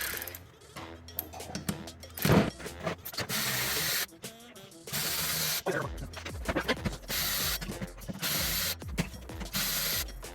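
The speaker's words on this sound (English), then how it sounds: "we're gonna use a 10 and start taking off these rockers" A 10 mm socket wrench loosens rocker arm bolts on an engine, giving short bursts of clicking ratchet strokes broken by brief pauses and metallic handling noises, close and fairly loud.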